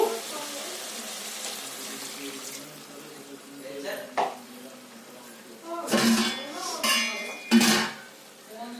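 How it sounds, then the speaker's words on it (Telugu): Water pours into a pot of chicken curry on the stove, heard as a few short bursts of gushing and splashing mixed with clinks of utensils, close by, with no talking. "కొంచెం వాటర్ పోసుకుందామండి."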